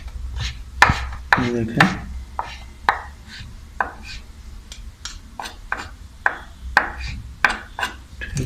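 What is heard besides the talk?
chopping fresh coriander (green cilantro) with a knife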